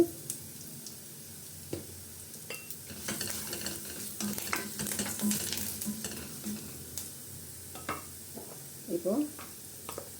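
Curry leaves and a pinch of asafoetida sizzle in hot oil in a pan for sorrel-leaf (gongura) thokku, a quiet crackling hiss broken by spoon stirs and a few clinks near the end.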